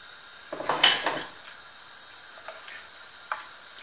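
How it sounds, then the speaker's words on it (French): A ceramic lid settles onto a tagine of kefta and potatoes with a short clattering clink, followed by a few faint taps in a quiet kitchen. "Je couvre mon tagine"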